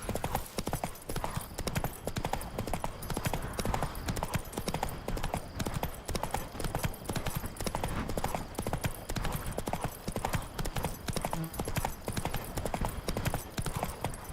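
Roach, the horse in The Witcher 3, trotting with a steady, fast clip-clop of hooves that repeats evenly and fairly loud throughout, with a brief spoken line from a voice.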